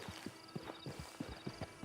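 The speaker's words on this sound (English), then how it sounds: "Just get on the horse when you're good and ready, okay?" Horse hooves clip-clop in the Red Dead Online video game, a steady walking rhythm of soft thuds, faint and close, with no voices.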